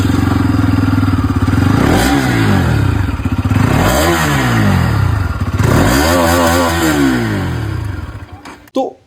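A liquid-cooled Bajaj Pulsar motorcycle engine revs up and settles three times in a row, loud and close, with a plain, unmodified stock exhaust note.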